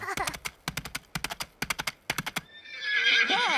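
Rhythmic clip-clop of hooves comes in quick groups of clops, followed by a loud, close horse whinny, in a children's cartoon scene where the Teletubbies pretend to be horses.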